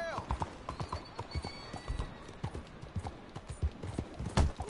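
Horse hooves in the video game Red Dead Redemption 2 beat a fast, steady clip-clop rhythm of sharp thuds, loud and continuous, with a brief snort near the end and no talk over it.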